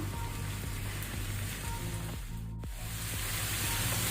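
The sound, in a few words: turmeric frying with mutton liver in pan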